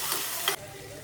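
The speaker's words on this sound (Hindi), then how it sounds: "हरी मिर्च है, हरी मिर्च भी डाल दे रही।" Green chillies dropped into frying patal aloo (pointed gourd and potato) give a loud, dense sizzle with a brief louder spit, then the hiss settles to a steadier, quieter fry.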